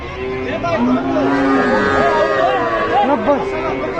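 Cattle low and moo repeatedly at the busy Gabtoli cattle market in Dhaka, mixed with the chatter of nearby people.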